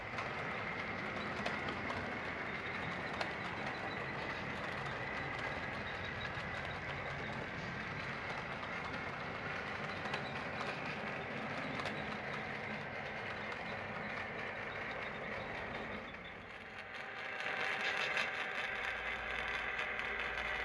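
Cotton Belt freight train 61 rolls through a small downtown, a steady broadband rumble and rail noise holding for about twenty seconds with faint scraping and a brief dip near the end.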